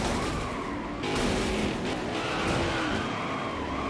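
A race car crashes and spins out in the NASCAR Heat 5 racing game, with a steady, loud engine roar and a tire-scrubbing skid running throughout, plus a brief dip and a jolt partway through as the car spins. No one speaks.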